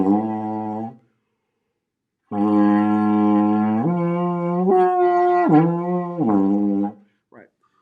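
A mellow baritone horn plays a short note, pauses, then sustains a longer phrase that steps up into higher notes, loud and close.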